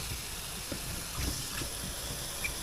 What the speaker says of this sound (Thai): เราต้มหน่อไม้ครับ ต้มให้สุก